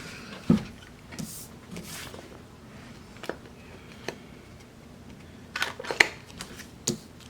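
A paper punch cutting out planner stickers, heard as a handful of short, quiet clicks and snaps spaced irregularly over faint room hiss.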